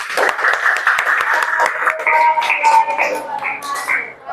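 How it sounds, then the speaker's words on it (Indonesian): A classroom group gives a short burst of clapping, dense and lively at first and then thinning into scattered claps and shuffling before it picks up again, with a faint murmur of voices. "Tepuk tangan."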